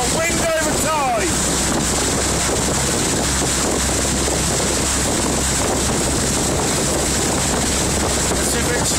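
Wind gusting across the microphone and choppy water slapping under a rowing quad scull on a tidal river with wind over tide: a constant loud roar of buffeting and splashing, with a brief voice near the start.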